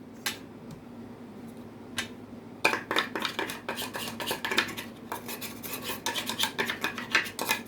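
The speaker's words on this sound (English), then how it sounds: "I'm gonna grind it up a little bit more." Dried turmeric being ground into fine powder for homemade spice, with a close, gritty rasping and scraping that comes in sparse strokes at first, then turns dense and continuous with rapid rough bursts.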